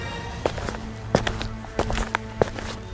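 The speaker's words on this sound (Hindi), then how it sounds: "अचानक ही उसे अपने कमरे में आहट सुनाई देती है" Footsteps in an animated bedroom at night, a slow run of distinct taps and soft thuds about a second apart, close and moderately loud with no voices.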